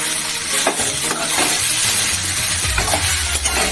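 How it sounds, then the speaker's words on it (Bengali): Turmeric, salt, green chilli and chilli powder fry with vegetables in a pan for a vegetarian soybean curry, giving a steady close sizzle with utensil scrapes and clinks from stirring throughout. "একটু ভাজি, বুঝলে।"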